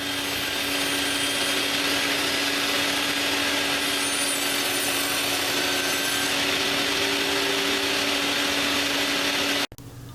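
A power tool rips wooden table legs to width in one loud, continuous cutting run with a steady whine and rough grinding texture, which cuts off abruptly just before the end.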